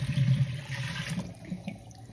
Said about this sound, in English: I'm gonna take this yucky water, and I'm gonna pour it right on top of that paper towel.